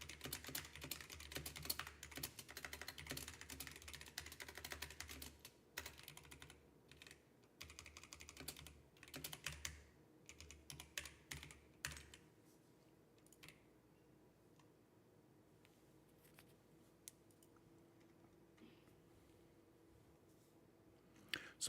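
Rapid, clattering keystrokes on a computer keyboard during a coding session, close and fairly quiet, with dense typing bursts that thin out into sparse taps and pauses toward the end.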